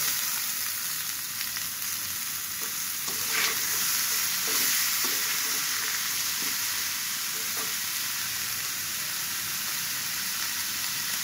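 Vegetables, including potato, pointed gourd and papaya, stir-frying in hot oil in a pan, giving a loud, continuous hiss and crackle with occasional scraping stir strokes throughout, and no voices.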